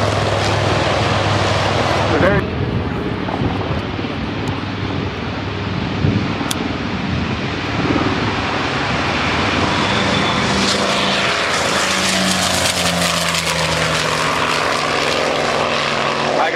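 A Douglas Skyraider warbird flies at a beach air show, its big radial propeller engine roaring loud and continuous, swelling as it passes overhead, with a public-address voice faintly underneath.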